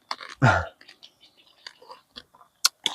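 Crispy pork rinds are crunched and chewed up close, with a loud crackling bite followed by softer irregular munching and a few sharp crunches near the end.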